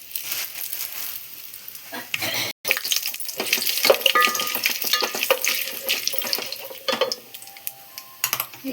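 Spices including cinnamon, mace and bay leaves sizzle and crackle in hot oil for bagara rice, a continuous loud frying hiss with stirring scrapes and brief pops.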